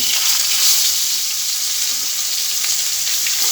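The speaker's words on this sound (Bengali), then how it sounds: "কড়া কড়া করে ভাজি করে নেব মাছগুলো" Flipped fish fries crisp in a pan of hot oil, giving a loud, continuous close-up sizzle with fine crackling throughout and no voices.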